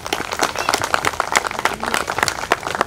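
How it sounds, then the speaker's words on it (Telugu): An audience applauds after a dance performance at an awards ceremony, giving a steady patter of many hands clapping, fairly close and continuous throughout. "మీ అందరూ చప్పట్లు ఒకసారి కొట్టాలని కోరుకుంటున్నాను"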